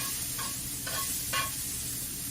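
Sweet corn roasts in a hot pan for a succotash, a steady quiet sizzle broken by three brief scraping stirs close by.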